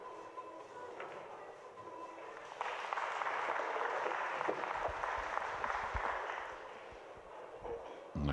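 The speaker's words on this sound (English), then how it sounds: "Nice applause there for Moritz Neuhausen, tying our match at 4 apiece" Audience applause at a European Open pool match, a steady broad wash of clapping that swells at about 2.5 seconds, holds loud, then tapers near the end.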